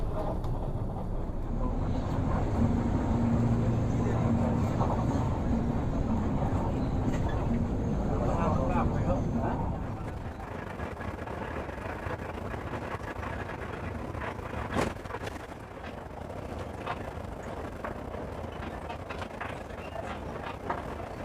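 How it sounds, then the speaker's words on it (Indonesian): Cabin of a moving Sumber Alam intercity bus on the road to Jogja, with a steady low engine and road rumble throughout that eases slightly halfway, a faint knock midway, and no talk. "Dan saat ini kemudi bus sudah diambil alih oleh driver tengah, yaitu Mas Rohman, menggantikan driver pingg"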